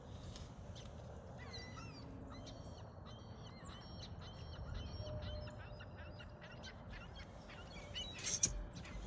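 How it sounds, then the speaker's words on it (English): Many birds call at once, geese honking among them, in a steady outdoor chorus with dense overlapping calls and a louder burst of honks near the end. "There are so many birds."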